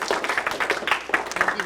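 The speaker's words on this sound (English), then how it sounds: "Yeah, you can clap." A small audience at a mentoring program year-end celebration claps in brief, uneven bursts, close and fairly loud, with voices mixed in.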